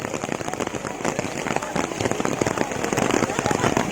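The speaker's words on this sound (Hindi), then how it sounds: "कुछ बारिश के कारण व्यवधान हो गया है, थोड़ा बारिश बहुत तेज आ गई" Heavy rain pours down on an outdoor gathering, a dense, constant patter of drops striking surfaces that swells slightly louder toward the end, with voices faintly mixed in beneath.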